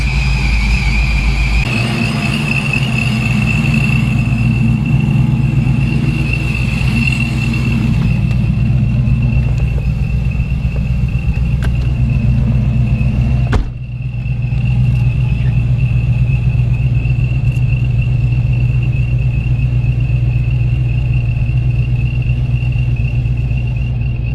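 An LS V8 engine swapped into a Chevrolet Trailblazer idles steadily with a deep, continuous rumble, with a brief dip partway through before the steady running resumes.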